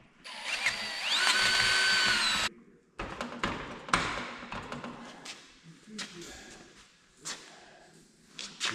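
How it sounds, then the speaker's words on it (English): Power drill boring holes in steering parts for a Jeep M715, one loud high whining burst for about two seconds, then clunks, taps and handling noises from the shop with some talk. "You got the holes drilled."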